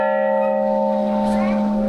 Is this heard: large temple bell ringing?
yes